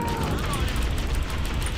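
Gunfire in a Halo video game, a dense continuous rattle of rapid shots that holds steady and loud across the brief moment, with voices talking underneath.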